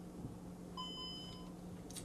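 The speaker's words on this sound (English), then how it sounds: "Went ahead and beeped and confirmed" A security system keypad on a hardwired alarm gives short electronic beeps confirming a button press, faint and brief over a low background hum.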